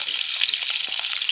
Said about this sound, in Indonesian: untuk tahap pertama kita masukkan atau kita tumis ikan teri.